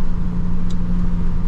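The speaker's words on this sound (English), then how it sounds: "I can feel the turbo respond. I can hear it respond." Diesel engine running steadily on an LBZ Duramax after a turbo replacement, a constant low rumble with a steady hum, close and loud throughout, no distinct turbo whistle rising out of it.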